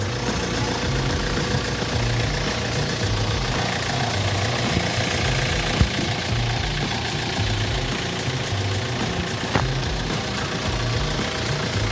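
Hyundai Porter truck engine idling steadily and smoothly, a continuous loud rumble with an even low throb and no pauses, heard alone without voices.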